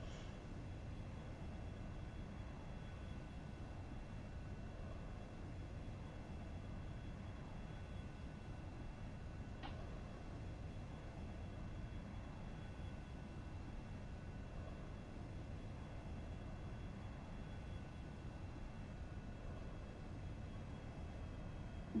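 Cirrus Vision SF50 jet engine at reduced throttle in the X-Plane 11 flight simulator, a steady, even broadband whoosh with a faint high whine, continuous and unchanging throughout with no talk.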